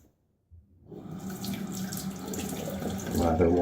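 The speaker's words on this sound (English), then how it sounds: "Lather washes easily from the razor" A shaving razor is rinsed of tallow-based lather under a running faucet. The water starts abruptly after a brief silence and then flows steadily, a close, continuous splashing rush that swells slightly at the end.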